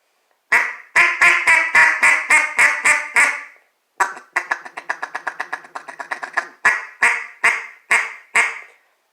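A freshly cut, unsanded wooden duck call blown in rapid quacking bursts, a run of about ten sharp quacks, a brief pause, then a longer chattering series and a few final loud quacks, close up.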